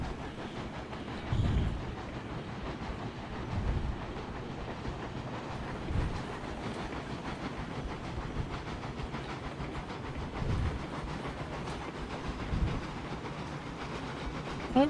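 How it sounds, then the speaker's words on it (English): Locomotives running in the train game Railroads Online: a steady rumbling rail drone with clickety-clack and hissing steam, continuous and fairly loud, with no talking. "Oh, you can see 2 locomotives operating."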